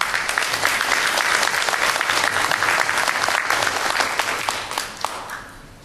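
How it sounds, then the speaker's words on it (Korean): Audience applause at a community gathering with a politician in New York, a dense sustained clapping from a sizeable crowd that fades toward the end. "여러분 힘찬 박수로 맞아주시기 바랍니다."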